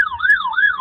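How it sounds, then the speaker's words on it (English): Emergency vehicle sirens wail loudly outside the White House, a close, steady rising-and-falling tone sweeping up and down twice. "you're being drowned out by the sirens"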